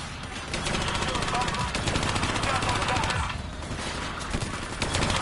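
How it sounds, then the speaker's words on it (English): Rapid, sustained turret gunfire in a Black Ops 3 campaign mission rattles close and loud in dense bursts, with a brief dip partway through, while a voice talks over it. "I control the turret."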